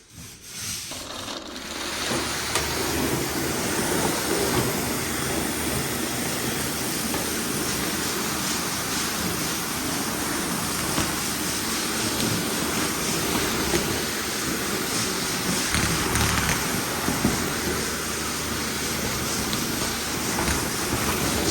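Tile floor grout being scrubbed by a cleaning machine, a dense, continuous, loud rushing and rubbing hiss that holds steady for over twenty seconds, with no talking.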